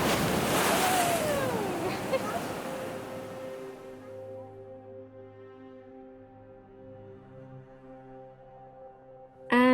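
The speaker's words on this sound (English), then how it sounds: "Yeah, we're at the beach." Ocean waves wash in at a beach, a loud, close rush of surf and wind that fades to a lower rumble, then settles under a steady tonal hum, with a sudden knock right at the end.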